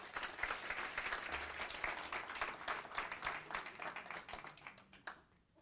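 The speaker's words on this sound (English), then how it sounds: "Let's give it a round of applause." An audience at a ceremony honoring women in public service in Union County claps warmly, dense continuous applause that holds steady for several seconds before tapering off at the end.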